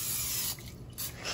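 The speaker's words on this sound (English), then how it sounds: "Now spray some spray on top." Cooking spray hisses onto asparagus in a home kitchen as a short close-up burst that stops briefly and then starts again.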